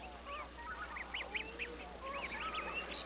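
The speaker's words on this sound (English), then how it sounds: "From the beginning, sound is a critical part in the life of the wild goose." Wild geese chatter softly nearby: a steady run of overlapping honks and cackles rises and falls over quiet background noise, with no talk.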